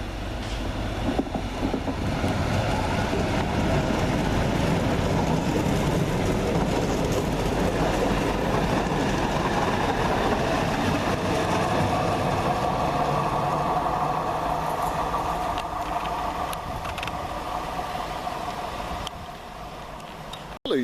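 Tyne and Wear Metro train riding near Wansbeck Road, heard from inside: a steady rumbling roll with low engine hum and faint rail clatter throughout, easing slightly near the end, with no voices.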